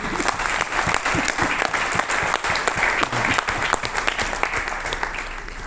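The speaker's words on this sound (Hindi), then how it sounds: "तो अगेन इस आदमी के लिए दोबारा तालियां होनी चाहिए" An audience applauds a man at a Kangen Water business event, a dense, steady wash of many hands clapping, loud and continuous throughout with no break.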